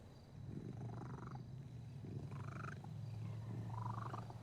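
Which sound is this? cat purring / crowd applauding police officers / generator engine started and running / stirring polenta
cat purring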